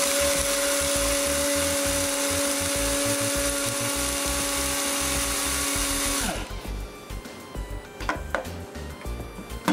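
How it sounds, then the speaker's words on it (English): Electric coffee grinder grinding beans toward a medium grind, a loud steady whir running for about six seconds and then cutting off, followed by quieter clattering and handling noises. "Add another 6 seconds to that, and you'll have a medium grind."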